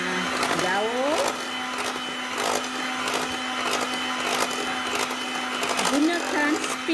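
An electric mixer on its second, moderate speed whirs steadily while beating eggs into cookie batter for coconut cookies, a constant motor hum with clatter of the beaters against the bowl and a voice talking over it.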